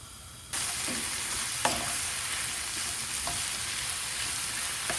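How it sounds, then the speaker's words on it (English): Stir-fry vegetables sizzle loudly in sesame oil with tamari as a filling for gluten-free spring rolls, a dense close hiss that jumps in abruptly and holds steady, with a few light scrapes of stirring. "Add your stir fry veg and your tamari, which is basically gluten-free soy sauce."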